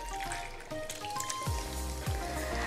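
Water trickles and splashes into a bowl of tomato and tamarind pulp, a soft steady pour with a few gurgling drops, close by and quiet.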